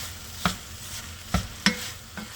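About two pounds of ground meat cooking in a pan, a soft steady sizzle broken by three or four sharp spatula knocks and scrapes against the pan, close by, with no voices.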